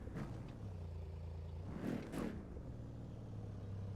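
Car engine in the racing video game The Crew 2, a steady low idle-like drone that briefly swells into two short revving bursts midway before settling back to a constant hum.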